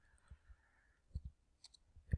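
A computer mouse gives a few faint, sparse clicks at close range in a quiet room, with a soft faint tone underneath.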